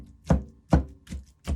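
A knife chops ripe avocados on a board for guacamole: four firm, evenly paced thuds, close and clear, with no talking.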